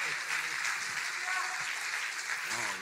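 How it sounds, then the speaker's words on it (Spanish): Applause from a church congregation during an evangelist's family night, moderately faint and mixed with murmured voices and background sound. "denle un aplauso"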